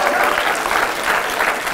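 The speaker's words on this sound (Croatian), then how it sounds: "Ovo je aplauz" A live stand-up comedy audience in Zagreb breaks into dense, steady applause, many hands clapping close together with a faint crowd murmur.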